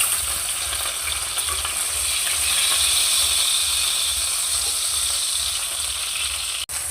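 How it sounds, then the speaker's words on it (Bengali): Wrapped snacks fry in hot oil in a wok, giving a steady, dense sizzle and hiss that holds evenly throughout, with no voices. "তারপর উল্টে পাল্টে ভেজে নেব।"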